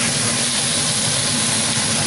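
Chicken pieces sizzling in a heated stone pan without grease, a steady loud dense hiss that holds unchanged throughout.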